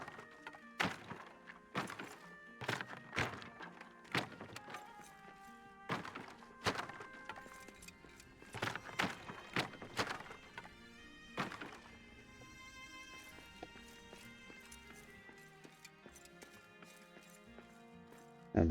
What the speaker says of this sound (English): if I come over here and destroy these columns from the back